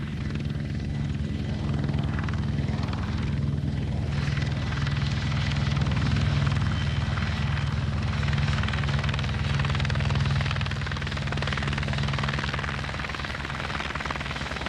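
A Merseyside Police helicopter's rotors thrum loudly and continuously, the engine roaring close by without pause.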